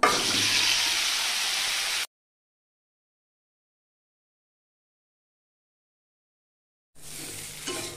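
New potatoes drop into hot oil left from frying eggplant, seasoned with a little whole cumin, giving a loud, steady sizzling hiss that cuts out to silence for several seconds and then resumes.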